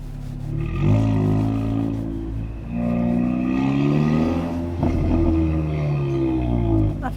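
A 550 BHP car accelerates hard through London streets, its engine note rising and dropping sharply with quick gear changes, loud and close from inside the cabin, with brief voices underneath.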